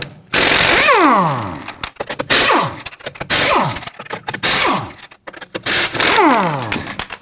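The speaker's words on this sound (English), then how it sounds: "Using a 21mm socket, loosen and remove your lug nuts" An impact wrench with a 21mm socket loosens lug nuts on a rear wheel of a Kia Sorento, delivering loud rapid hammering bursts with whining motor sweeps, repeated in several short runs separated by brief pauses.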